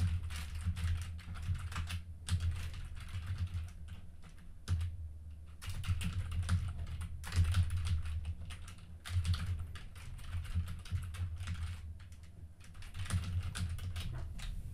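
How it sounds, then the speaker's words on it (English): Continuous typing on a computer keyboard while entering a file path in a Rust development setup, steady clicking keystrokes in bursts with brief pauses, close and clear with no talking. "I'll quickly type in the path to my binary."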